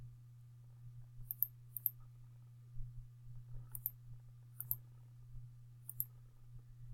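Faint, sparse clicks of keys being pressed on a calculator, soft taps scattered irregularly over a steady low hum.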